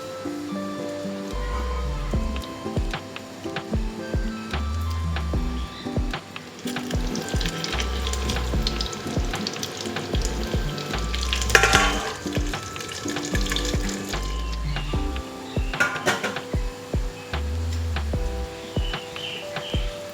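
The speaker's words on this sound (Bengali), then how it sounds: "এবার এই গরম তেলের মধ্যে গাটি কচুগুলোকে দিয়ে দিলাম। হাই ফ্লেমে গাটি কচুগুলোকে ভালো করে প্রথমে ভেজে নেব।" Pieces of gathi kochu (taro) frying on high flame in hot oil, sending up a steady, dense sizzle that swells and crackles throughout, with a few stirring scrapes and no talk over it.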